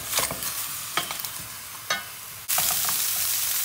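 Beef on the bone searing in a large pan, a continuous close sizzle and crackle of hot fat with stirring scrapes and a sudden surge of louder frying.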